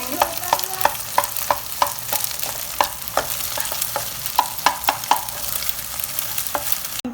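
Chicken pieces for restaurant-style chicken fried rice are stirred and broken up in a hot pan, a metal spatula scraping and clicking at a steady, irregular rhythm over a soft background sizzle, close and with no talk.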